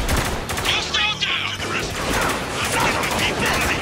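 Gunfire in Spec Ops: The Line: dense rapid volleys of shots and bursts crackle continuously at close range, with a brief lull in the middle, under and between bits of talking.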